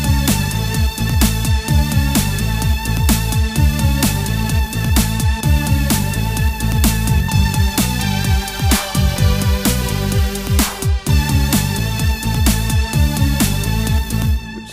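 A riff played on a Roland JD-Xi synthesizer, a dense, loud, continuous synth line with steady rhythmic notes over pulsing low bass and drum-like hits, with no voices.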